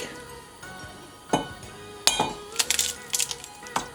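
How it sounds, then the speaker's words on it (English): An egg is cracked one-handed against a hard kitchen surface for scrambling, giving a few sharp, close clinks and taps with a brief crack among quiet kitchen sounds. "That's a one-handed egg break."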